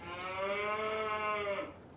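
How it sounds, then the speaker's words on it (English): A dairy cow in a farming video game gives one long, drawn-out moo, loud and close, sliding slightly in pitch before fading. "Noisy cows."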